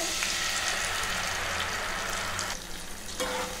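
Cashew and green chili paste sizzles steadily in hot oil in a pan, a continuous close frying hiss that eases slightly near the end, with no talking.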